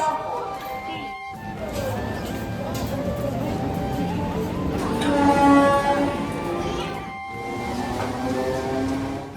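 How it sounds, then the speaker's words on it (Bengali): A train pulls into a station, with a steady rumble of rolling cars and a horn-like tonal sound under a busy platform. People talk throughout. "এই যে ট্রেন চলে এসছে"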